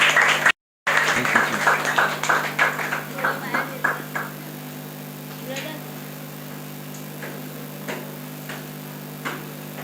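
A church congregation claps to welcome a preacher, a scattered run of sharp handclaps over a humming room that thins out after a few seconds into occasional isolated claps.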